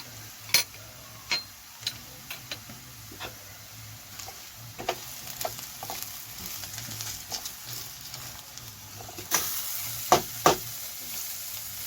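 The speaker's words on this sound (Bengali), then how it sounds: "হাফ চামচ লঙ্কার গুঁড়ো আর হাফ চামচ ধনের গুঁড়ো দিয়ে আমি একটু ভালোভাবে কষিয়ে নেব" Half a spoon each of chilli powder and coriander powder sautéed in a pan for chicken patia: a soft, steady sizzle with sharp spoon taps and scrapes at irregular intervals, fairly quiet and close.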